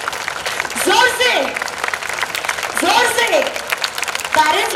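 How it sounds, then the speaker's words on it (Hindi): Audience applause at a school annual function, a broad wash of clapping running through the clip while voices speak or call out over it in bursts. "तो तालियां बजाइए"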